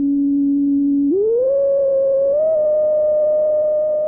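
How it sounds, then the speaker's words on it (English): A synthesizer's noise source rings through a resonant filter with the cutoff turned down and resonance turned up. It sounds as a pure, steady whistling tone that glides upward partway through and then holds at a higher pitch. "my noise bumping into the resonance of the filter"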